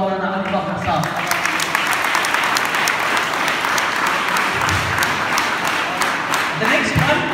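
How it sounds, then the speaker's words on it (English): An audience at a school event gives sustained applause for Maulana Ali Bakhar Sahib, dense clapping holding steady throughout with some voices mixed in. "Can we have a huge round of applause for Maulana Ali Bakhar Sahib?"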